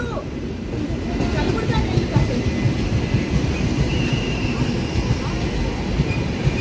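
The Palnadu Superfast Express rolls into platform 2 at Piduguralla station, a loud steady rumble of wheels and carriages with faint squeals, while someone talks over it.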